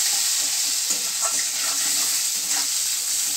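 Eggplant frying in hot oil gives a loud, continuous bright sizzle close up, with faint crackles and occasional pan scrapes and no talk.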